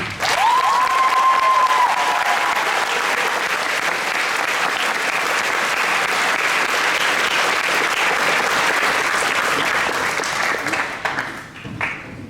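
A school concert audience at Lynnwood High School applauds Ms. Stevenson and Mr. Onishi, a dense, steady wash of clapping from a large crowd that holds for about ten seconds before thinning out near the end.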